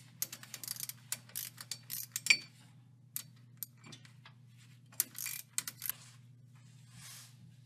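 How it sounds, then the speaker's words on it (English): A ratchet backs out the strap bolts holding a drive shaft during a universal joint replacement, quick bursts of close metallic clicking with short pauses over a low steady hum. "Next, we're going to remove these strap bolts."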